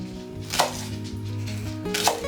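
A kitchen knife chopping a shallot on a board, two sharp distinct cuts about a second and a half apart over a steady background hum.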